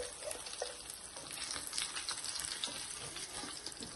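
Koramenu (murrel) fish frying in hot oil: a quiet, steady crackling sizzle with fine pops, continuous throughout.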